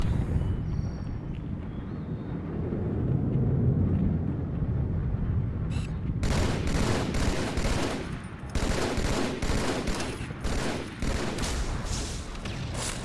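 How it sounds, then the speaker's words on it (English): Multiple players exchange gunfire in the Halo 2 video game, with rapid bursts of automatic fire crackling in dense, overlapping volleys, growing busier in the second half. "you can start fighting one person and you got 2 other people shooting at you"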